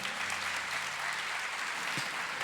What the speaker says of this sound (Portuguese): Então aplaude esta verdade.